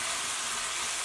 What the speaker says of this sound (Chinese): 我们倒入香菇和木耳，给它炒出香味